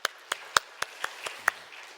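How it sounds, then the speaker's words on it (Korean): At a Friday night healing service in a church, a handful of sharp, separate claps ring out in a slow, steady rhythm, about seven in total, with quiet between them. "다시 한번 격려의 박수를"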